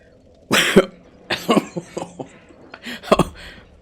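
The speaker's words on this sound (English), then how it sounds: "that soundbite is what my cough sounds like" Several coughs in a row, one loud hacking burst followed by smaller rough coughs and throat sounds, close by.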